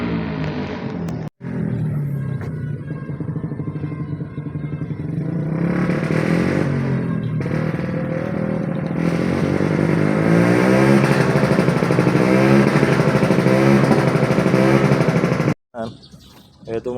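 A Honda TMX 125 motorcycle, idle for a year and running on stale gasoline, cranks and fires up into a steady, loud idling engine with some revving, with brief cutouts near the start and end and voices talking over it.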